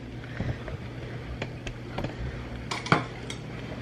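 A cooking pot is lifted off a stovetop burner in a home kitchen, giving a few light metallic clanks and scrapes over a steady background hum, with one sharper clatter near the end.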